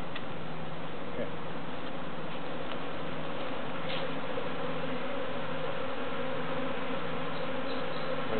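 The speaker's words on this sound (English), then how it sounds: "Right now they're not happy bees." An agitated honey bee swarm being moved into a hive box hums with a steady, dense buzz that fills the whole stretch, close and continuous with no pauses.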